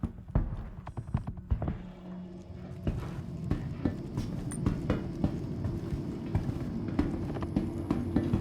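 Footsteps from the video game Star Citizen thud in a steady, repeated pattern, fairly soft against a busy in-game background.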